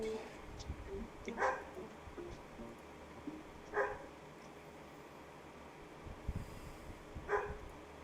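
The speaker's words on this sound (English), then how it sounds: "I want to drop kick this fucking dog." A dog barks in three short, separate bursts spaced a few seconds apart, faint and somewhat distant against a quiet background.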